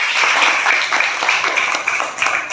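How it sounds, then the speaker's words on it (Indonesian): A classroom of students applauds a classmate after a math lesson, a loud, close burst of many hands clapping in a dense, even patter that lasts throughout. "Oke, tepuk tangan buat David."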